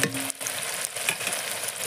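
Onion and spice paste frying in mustard oil in a pan for a chicken curry, a loud continuous sizzle with occasional stirring scrapes, no talking.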